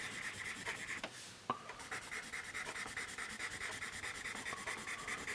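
Graphite from a Dixon Ticonderoga pencil rubbed across paper in a smudge test, a steady close scratchy rubbing with repeated short strokes and a brief pause in the middle.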